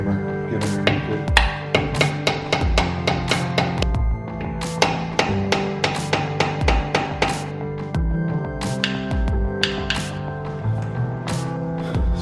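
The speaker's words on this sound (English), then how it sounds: "And then just get a heavy hammer, get underneath it." A heavy hammer strikes a screwdriver wedged under the front wheel hub of a BMW X5 E70, sharp metallic knocks ringing out in irregular bursts, loud and close, repeated many times with short pauses.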